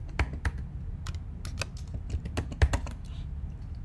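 An email address is typed on a computer keyboard in sparse, crisp key taps with irregular gaps, a few of them landing harder. The keys are heard close over a low background hum.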